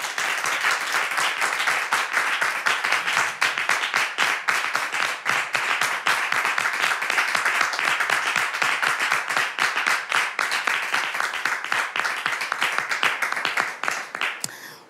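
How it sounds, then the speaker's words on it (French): A studio audience on a French-language talk show welcomes a guest with steady, sustained applause, many hands clapping in a dense, even rhythm that tapers off at the close. "On peut l'accueillir, simplement. On l'applaudit."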